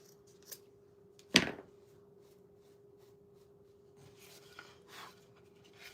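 Scissors trimming a paper stencil, one sharp snip up close followed by a few faint rustles and small cuts in a quiet room.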